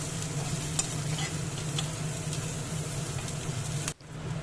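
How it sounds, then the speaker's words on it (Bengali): Chopped onion fries in oil in a pan, a steady close sizzle with a low hum beneath it, a few scraping stirs, and a brief dropout near the end. "পেঁয়াজটা একটু ভালো করে ভেজে নিতে হবে, কিছুক্ষণ ভেজে নেব গোল্ডেন ব্রাউন কালার অবধি"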